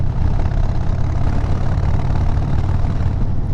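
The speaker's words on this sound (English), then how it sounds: "It sounds like a Harley." A Harley-Davidson Dyna motorcycle engine idles steadily up close, a loud, continuous low rumble with no talking over it.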